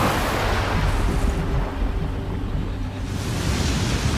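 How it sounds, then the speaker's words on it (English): Roaring rush of floodwater from a flood attack in the video game Wo Long: Fallen Dynasty, a loud, steady surging wash like heavy surf that briefly eases before building again. "Water! It's a flood attack!"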